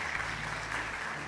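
A church congregation applauds steadily throughout, a dense wash of many hands clapping at even loudness, with no voice rising above it.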